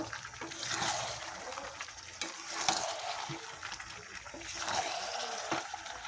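Chicken stomach and liver being stir-fried with meat masala, a close busy sizzle with repeated scraping stirs rising and falling throughout.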